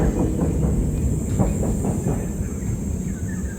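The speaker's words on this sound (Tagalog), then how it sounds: "Train pala yun." An MRT train rumbles past on an elevated rail line, a steady low roar with faint rhythmic clacks and a thin high hiss above, fairly loud and continuous.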